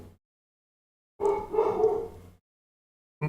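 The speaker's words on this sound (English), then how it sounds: "Uh-oh, the dogs are going crazy." Dogs barking in a short, loud burst of several rapid woofs after a brief silence, with another bark just starting at the end.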